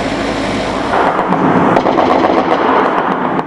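Gunfire from long-barreled weapons, with rockets also fired, during a night attack on a gendarmerie outpost in Şemdinli, Hakkari; loud, dense and continuous, with rapid overlapping bursts and rumbling reports.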